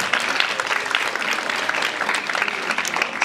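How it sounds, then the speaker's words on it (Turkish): An audience at a TEDx event applauds teachers with brisk, continuous clapping in a hall, a steady crackling wash of many hands, no voices over it. "öğretmenlerimize kocaman bir alkış rica ediyorum"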